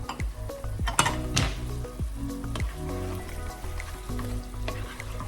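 Water poured into veal sizzling in mustard sauce in a pan, giving a close, bubbling hiss with a few clanks and stirring sounds, and no talk.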